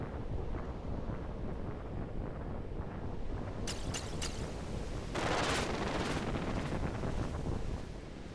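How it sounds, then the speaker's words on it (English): Ocean ambience from the video game Kirby's Dream Land 3: a steady, static-like rush of surf and wind that swells louder midway, with no talk over it. "So I guess that's ocean sound? Sounds like a bunch of static, but alright."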